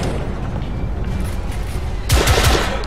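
Gunfire in The Order: 1886 video game: a muffled, noisy background gives way near the end to a quick cluster of loud, sharp shots fired in rapid succession.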